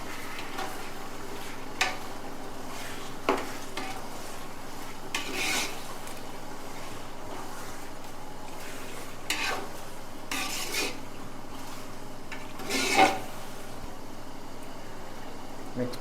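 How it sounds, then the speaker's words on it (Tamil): Chicken biryani mixture with added salt being stirred in a cooking pot, giving soft, intermittent scraping and rubbing strokes with a few sharper clinks of the utensil against the pot at moderate distance. "ஆட் பண்ணிவிட்டு இதை எல்லாத்தையும் ஃபுல்லாக நல்லா மிக்ஸ் பண்ணிவிடுவோம்."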